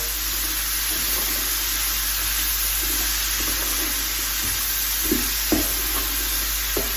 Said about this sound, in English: You're going to get quite a lot of sizzle going on.